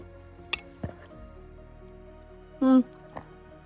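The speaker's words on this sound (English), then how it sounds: "Let's stir it up a little bit." A utensil stirs MRE beef goulash with red pepper mixed in, giving a few soft, quiet squishes and light clinks spread apart, with a low steady hum underneath.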